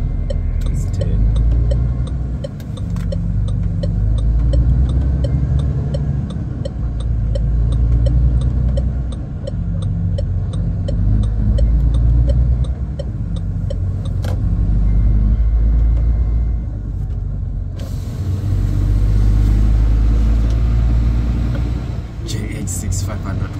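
Cab-interior rumble of a JH6 500-horsepower truck driving and turning, a steady low engine drone that holds at a constant loud level throughout, with brief ticking and clicks over it.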